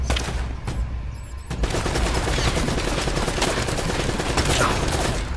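Sustained gunfire in the Uncharted: Drake's Fortune video game, dense bursts of rapid shots and automatic fire crackling continuously, loud and close, with a brief quieter gap early on.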